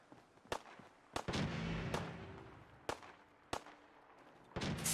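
Sharp gunshots crack in Fallout 4, a handful of separate shots spaced irregularly, with a rumbling boom between them, moderately loud over a quiet background.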